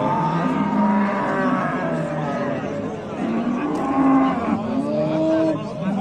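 At a livestock sale, cows moo several times in long, drawn-out calls, some near and some farther off, over a murmur of crowd noise.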